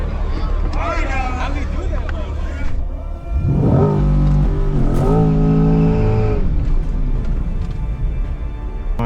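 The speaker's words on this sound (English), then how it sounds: "when I do my little mini burnout here" A Corvette C8 E-Ray coupe at a drag strip does a short mini burnout, engine note rising and revving loudly over a steady rumble, with crowd chatter around it.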